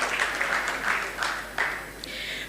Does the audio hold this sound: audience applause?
yes